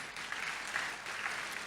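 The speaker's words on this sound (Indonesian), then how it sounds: "tepuk tangan yang paling kencang mau cepat pulang itu" A church congregation gives a short burst of applause, a dense patter of many hands clapping at moderate distance, steady throughout with no talking.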